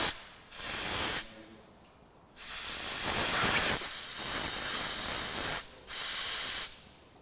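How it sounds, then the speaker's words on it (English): Compressed air blasts through the tiny jets of a Fiat Dino carburetor in the workshop, giving several loud hissing bursts of varying length separated by short pauses. "One thing I will do is just blast out these jets with a bit of compressed air."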